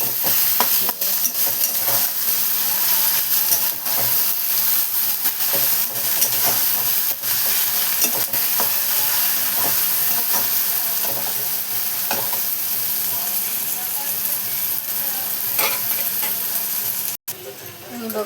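Onion and tomato frying in a pan with a pinch of salt added, loud continuous sizzling and hissing with frequent stirring scrapes, close up and steady throughout.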